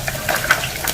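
Small omena fish fry in hot oil, a close, loud bubbling sizzle with crackling pops throughout a brief moment.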